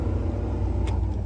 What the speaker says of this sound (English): Okay, you got your fan. You can hear that. Hear that going under there.